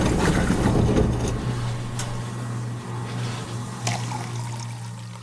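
A video game drink machine dispensing motor oil gurgles and trickles as liquid pours, with a low motor hum underneath and a couple of soft clicks, with no voices.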